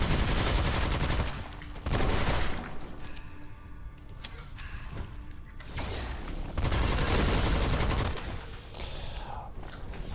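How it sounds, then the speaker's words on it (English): Bursts of rapid machine-gun fire from the video game Witchfire, loud and close, arriving in several dense volleys separated by brief quieter stretches. "Oh, I have a machine gun, I forgot."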